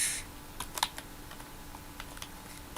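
Typing on a computer keyboard for a JavaScript coding lesson, a few quiet scattered key clicks in short bursts over a soft hum, faint and close by, with no talk.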